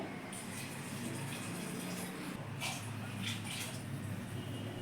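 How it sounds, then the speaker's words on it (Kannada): Water poured steadily into a pot of rice for biryani, a continuous even rushing splash lasting throughout, close and moderately quiet. "ಈಗ ಮೂರು ಗ್ಲಾಸ್ ನೀರು ಹಾಕ್ತಾ ಇದ್ದೀನಿ"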